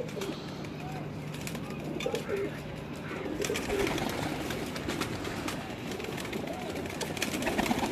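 Blue and black pigeons on a rooftop coo softly in low, repeated throaty calls, mixed with occasional bird chirps and faint background voices over a steady outdoor hum.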